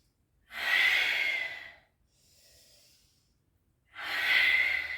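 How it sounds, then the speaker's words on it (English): Oceanic ujjayi breathing during a yoga exercise: two long, loud, close breaths with a throaty rushing hiss, separated by a softer, quieter breath in between, and no talking. "Just inviting that oceanic breath."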